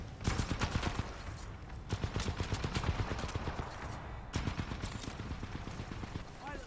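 Turret gunfire in Titanfall 2, a fast, continuous stream of sharp shots at moderate distance with a brief dip partway through, while a voice talks over it at times.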